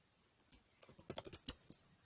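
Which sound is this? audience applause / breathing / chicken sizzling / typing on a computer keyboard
typing on a computer keyboard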